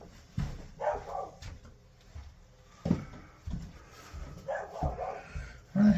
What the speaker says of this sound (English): I had to see what that dog was barking at.